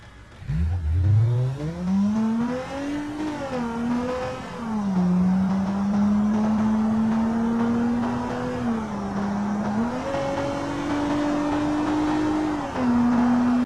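A Hyundai Santa Fe and a Ford Expedition drag racing in BeamNG.drive, one loud engine note climbing steadily through gear shifts over about fourteen seconds, with occasional dips as it upshifts and no talk.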